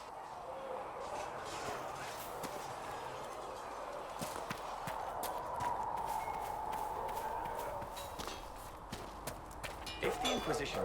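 Horse hooves walk at a steady clip-clop in the Dragon Age: Inquisition video game, fairly faint beneath a broad ambient wash, with a few sharper knocks near the end.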